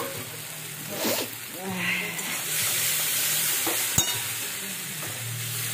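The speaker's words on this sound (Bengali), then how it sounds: "এবার আমি ডিমটা দিয়ে দেবো" Four eggs fry in a pan with little oil and are stirred, giving a steady close sizzle with scraping and a sharp clink.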